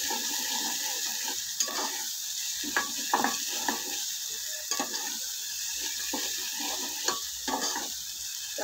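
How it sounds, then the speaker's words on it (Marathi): Spices such as coriander powder being stirred into a roasted masala paste in a pan for chicken gravy, a soft continuous sizzle broken by repeated scraping and tapping strokes of a spoon, close and with no talking. "तर हे चांगले मसाले ह्यामध्ये मिक्स करून घ्यायचे।"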